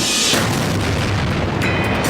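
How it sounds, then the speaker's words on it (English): Meteor airburst explosion as a documentary sound effect, a loud, close, deep boom swelling into a broad roaring blast that fills the whole span. "hot enough to melt steel, the rock explodes. It's what scientists call an airburst"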